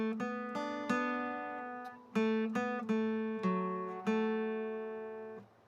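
Clean electric or acoustic guitar picking the opening section of a riff, single plucked notes and double-stops ringing and decaying one after another in a steady, unhurried rhythm, close and alone.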